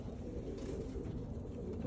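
Grey pigeons, a pair of sister hens from the same nest, coo softly in a loft, a low steady murmur filling the short stretch with no talk over it.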